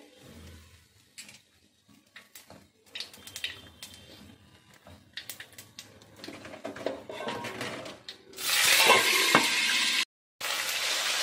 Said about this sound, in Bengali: এটা আমি কালো জিরে ফোড়ন দিলাম